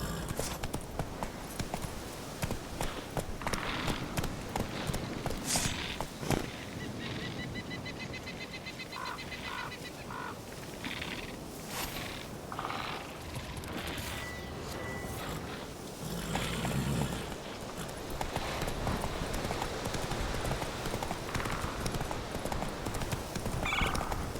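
Horse hooves clip-clop at a gallop in The Witcher 3, a steady rhythmic pounding running the whole way under game ambience, with a brief whinny and scattered bird calls.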